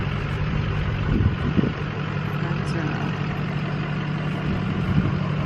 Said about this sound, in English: there's a truck that's about to drive by